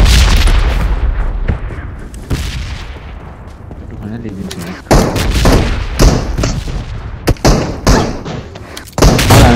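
Loud sniper-style gunfire from an AWM rifle in a shooting video game, with several sharp booming shots and thuds spread across a busy, noisy mix, partly under talk.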